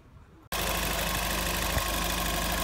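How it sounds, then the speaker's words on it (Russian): After a brief quiet moment, the 2.0 FSI engine of a Skoda Octavia A5 starts up after timing chain and tensioner replacement and settles into a steady, even idle, close and continuous. "Ну вот работа мотора после замены."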